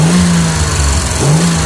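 The engine of a 1966 Jaguar E-type Series 1 fixed-head coupe revs loudly and close, its pitch dipping then climbing again in a short throttle blip.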